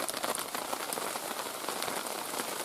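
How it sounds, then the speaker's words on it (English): Hail drums on a roof in unexpected weather, a dense, continuous patter of sharp little impacts at a steady level, close by, with no one speaking. "the roof's up because we're having hail, where that wasn't forecast at all."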